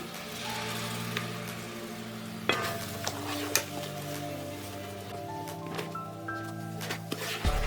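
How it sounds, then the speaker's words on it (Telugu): Fish curry masala fries in a pan with tomato puree stirred in, a continuous sizzle broken by several sharp utensil scrapes and knocks, with a low background hum. "ఇప్పుడు దీంట్లో మనం టమాటా ప్యూరీ కూడా వేసేసుకుందాం"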